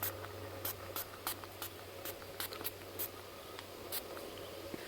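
Short hissing bursts of spray, about a dozen, are aimed at a person's head on a nature trail, close to the microphone over a steady low hum.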